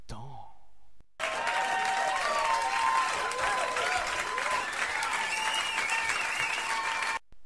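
After a brief voice and a short gap, a studio audience on a French comedy show breaks into steady, full applause lasting about six seconds, then cuts off abruptly.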